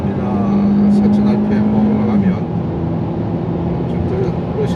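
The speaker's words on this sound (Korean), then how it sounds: "킥다운을 합니다. 5000rpm이나 4000rpm 올라가면" A Kia K5 sedan's engine note climbs toward 4000–5000 rpm and holds during a kickdown, a rising drone with a brief tonal whine, under road and cabin noise.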